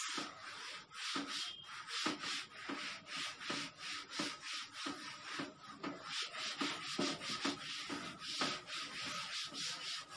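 Writing rubbed off a board with steady back-and-forth scrubbing strokes, close and fairly faint, continuous for about ten seconds with a brisk irregular rhythm.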